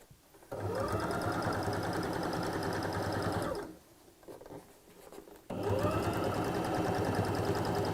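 A sewing machine stitches straight across the folded fabric ends of a tote bag, a steady rapid whirring chatter that runs for a few seconds, pauses briefly, then resumes at the same even pace.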